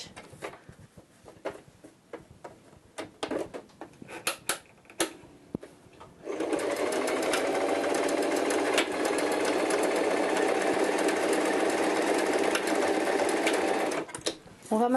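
A sewing machine stitching a folded fabric strip closed for a mushroom-shaped door stop, scattered handling clicks at first, then a loud continuous close whirring run of rapid stitches before stopping.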